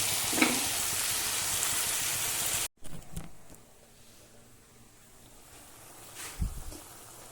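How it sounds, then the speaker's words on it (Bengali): Enoki mushrooms with salt and chillies stir-frying in a pan: a loud sizzle for the first few seconds, then a quieter low crackle with occasional scrapes and bumps. "ব্যাস লবণ দিয়ে নাড়াচাড়া করতে থাকবো একটু মাশরুমগুলো গলা গলা হয়ে যাওয়া পর্যন্ত।"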